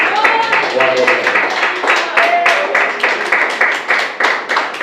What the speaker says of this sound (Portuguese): Mais alegres palmas para o Senhor Jesus